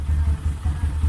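A Rusi Diablo motorcycle engine with a modified carburetor gives a short, loud burst of revving, its low throbbing pulses rising and falling quickly.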